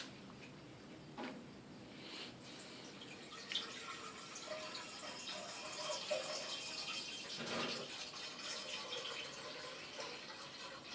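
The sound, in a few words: washing in running water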